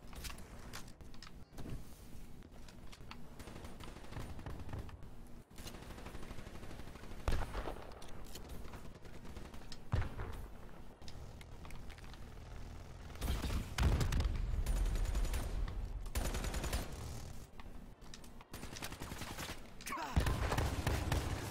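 Bursts of gunfire in the video game NX Shadow Claw, sharp repeated shots and rattling volleys scattered across a busy in-game battle soundscape, some louder bursts standing out near the middle and end.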